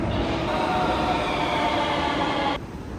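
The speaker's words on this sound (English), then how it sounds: "Here comes the train." A train arrives at a station in Sofia, rumbling in loud and steady with a broad rushing roar and hum, then the noise drops off sharply near the end as it settles.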